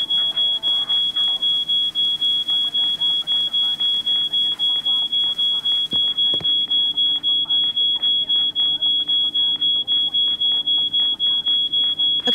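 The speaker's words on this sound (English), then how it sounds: "We need to do something about that alarm." A smoke alarm set off by burnt toast sounds a continuous, piercing high electronic tone, steady and loud throughout, with people talking over it.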